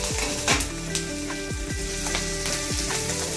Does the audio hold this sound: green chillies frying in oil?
yes